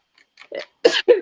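A few short, sharp bursts of breath, a small one then two louder explosive sneezes close together, each ending abruptly; nearby and fairly loud.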